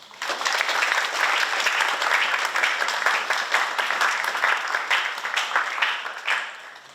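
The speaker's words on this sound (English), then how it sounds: "So can we give them a round of applause?" A hall audience gives sustained, loud applause for senior thesis presenters at an evening event, steady dense clapping throughout that tapers slightly at the end, with no talk over it.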